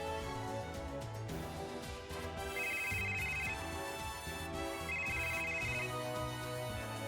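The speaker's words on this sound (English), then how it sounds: "Oh, Ichika's getting a phone call?" A melodic phone ringtone from the Super Robot Wars Y video game plays steadily and loudly, a looping electronic tune with repeated chiming notes over backing music, with no talking.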